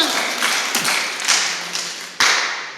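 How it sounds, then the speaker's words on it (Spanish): An audience at a Christian trivia night applauds, with scattered, fairly close hand claps and taps rising and falling in short bursts over a few seconds. "Vamos con un fuerte aplauso"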